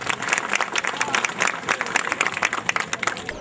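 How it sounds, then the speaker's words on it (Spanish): An audience at a festival prize presentation claps enthusiastically, with dense, uneven bursts of hand claps close by that keep going for a few seconds, and a few voices mixed in. "Un aplauso, por favor."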